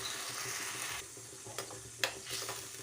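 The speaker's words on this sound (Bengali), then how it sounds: "তারপরে আমি পনিরগুলো দিয়ে দিলাম। পনিরগুলো দিয়ে ভালো করে নাড়িয়ে বেশ কিছুক্ষণ জল দিয়ে ফুটিয়ে নিতে হবে।" Paneer cooks in a pan with water for chilli paneer, giving off a quiet, low sizzle and bubbling while a spoon scrapes and stirs with a few soft clinks near the end.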